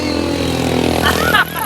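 A motorcycle engine holds a steady, loud drone throughout, with voices talking over it near the end.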